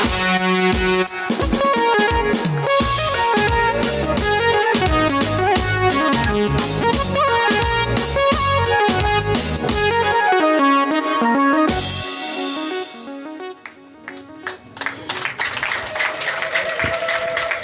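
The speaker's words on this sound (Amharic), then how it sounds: "እልልታ ጭብጨባ" A congregation at a live worship service claps and ululates loudly. Amplified music plays first, then the band drops out, leaving bright applause and high trilling cries from the crowd.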